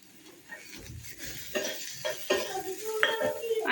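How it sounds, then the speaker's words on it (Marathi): Sliced onion being sautéed with garlic and ginger in a pan for a dhaba-style egg curry, with a close spatula scraping and stirring over a low sizzle, growing busier over a few seconds. "लसूण आणि आलं फ्राय झालं की आपण यामध्ये उभा चिरलेला कांदा आपण परतून घेऊयात।"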